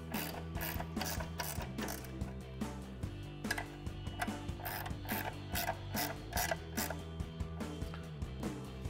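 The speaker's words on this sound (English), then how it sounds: "Now we'll go ahead and snug those up with our 13mm ratchet." A 13mm ratchet snugs bolts on a Bronco grille guard bracket, giving rapid, close metallic clicking in bursts of ratcheting strokes with brief pauses between them.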